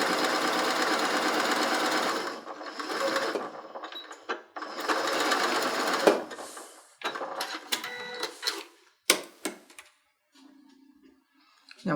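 A sewing machine stitches a seam in steady close bursts of rapid mechanical chatter, stopping and starting, then giving way to a few clicks and handling noises.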